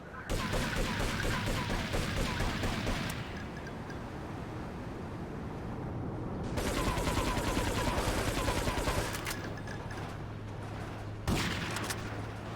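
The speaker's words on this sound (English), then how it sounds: "It's some loud business, that shotgun." Gunfire from a shotgun in the video game Grand Theft Auto 3 comes in loud, dense bursts, with several clustered blasts up front, another sustained volley midway and a short final burst over a steady low background hum.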